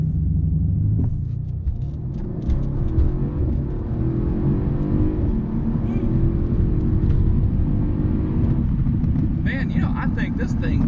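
A Mercedes-Benz AMG CLS 63 S accelerates hard, its engine a loud, deep, continuous rumble rising in pitch inside the cabin, with occupants talking over it.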